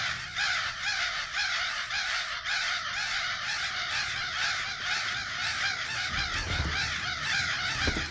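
Crows cawing in Remothered: Broken Porcelain, a dense flock calling over and over in a harsh continuous chorus, with a low rumble joining near the end.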